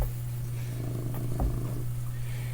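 A cat purrs close to a microphone with a steady low rumble that runs throughout, under a constant electrical hum, with no talking.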